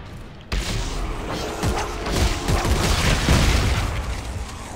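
Plasma weapon fire in the video game Dead Space 3 starts abruptly after a brief quiet moment, then becomes a dense, loud barrage of booming, crackling blasts and thuds.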